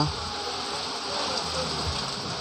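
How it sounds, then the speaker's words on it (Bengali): Heavy rain pours down in a steady, dense hiss that stays loud and even throughout, with no distinct drops standing out. "দেখো, প্রচণ্ড বৃষ্টি হচ্ছে।"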